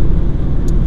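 Ford Fiesta Mk6 car cruising on a bypass, heard from inside as a steady, loud low road and engine rumble with no talking.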